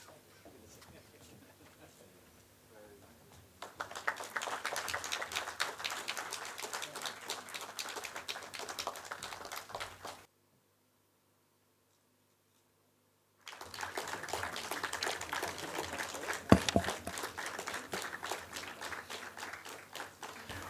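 Applause for AVM Sagara Kotakadanya at a civil aviation official visit ceremony, two bursts of crowd clapping separated by a short silence, moderately loud after a quiet start.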